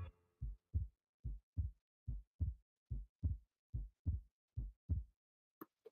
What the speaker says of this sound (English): you can hear like the heartbeats